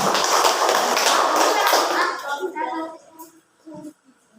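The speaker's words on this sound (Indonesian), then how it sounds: "tepuk tangan dulu buat kelompok 1" A classroom of students claps for a group that has just presented, a loud burst of mixed hand claps for about two seconds that thins into scattered taps and shuffling, with young voices murmuring as it fades.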